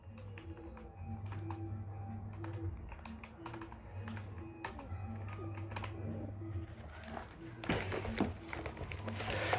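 Name being entered on a computer keyboard while filling in bank account details for AdSense payments, heard as many light, quick key taps scattered through steady low hum and faint bird cooing in the background.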